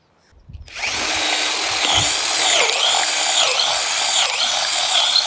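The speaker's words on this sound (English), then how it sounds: "I'm going to re-drill with the size 10." A power drill with a 10 mm bit whines steadily as it bores holes into wood, its pitch dipping briefly a few times under load, close and loud.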